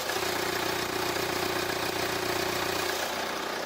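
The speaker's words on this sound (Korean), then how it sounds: "차량 디젤 엔진이기 때문에 소음과 떨림은 살짝 있을 수는 있지만" Kia Sorento R 2.2 diesel, 2WD, idling with a steady, even mechanical rumble and faint clatter heard up close, continuous and unchanging with no voices.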